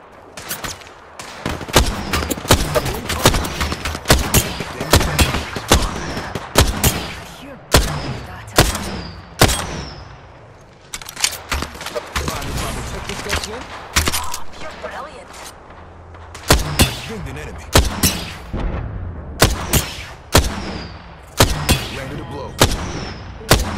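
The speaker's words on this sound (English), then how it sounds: "Rival over there. Opening fire." Rapid volleys of video game gunfire sound in close, repeated bursts with explosive cracks and reload-like clicks, spread through the whole clip without pause.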